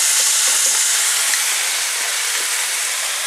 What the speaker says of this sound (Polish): Jak widać, patelnia nam się rozgrzała. Wrzucam nasze piersi.